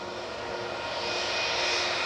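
Aircraft departing Manchester Airport, a moderate steady engine roar with a faint whine, slowly swelling over the short stretch, no voices.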